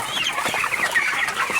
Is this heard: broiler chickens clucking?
yes